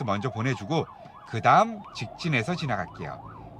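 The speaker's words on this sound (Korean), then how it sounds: "앰뷸런스 소리 들리죠?" An ambulance siren wailing on a road at night, its rising and falling tone loud and close while a driver talks over it.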